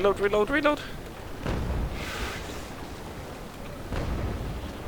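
A ship's cannon broadside in the naval game Naval Action: heavy, rumbling booms roll out at intervals under a voice talking briefly at the start.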